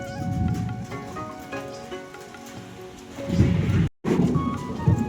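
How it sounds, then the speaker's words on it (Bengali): Deep rolling thunder rumbles beneath steady, loud rain pattering on surfaces during a summer storm. The rumble swells near the end around a brief dropout. "দেখলে কি জোর মেঘ ডাকছে"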